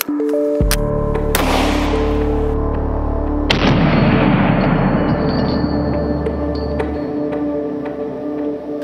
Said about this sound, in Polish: Więc strzelamy dalej, ale tym razem już pistoletu 9 mm,